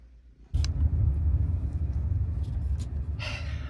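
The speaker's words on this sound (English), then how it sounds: "we are driving back now from the vet" Interior of a car on the drive home from the vet, a low steady engine and road rumble starting abruptly after a moment of quiet, with a brief higher whoosh near the end.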